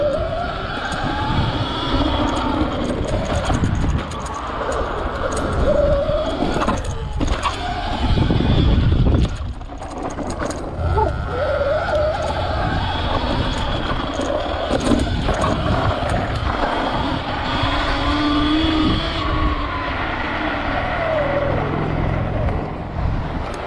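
An electric motocross bike riding off-road along a rutted track: a steady whirring motor hum with surges as the throttle changes, mixed with rolling tire and chassis rattle, continuous and fairly close for the whole stretch.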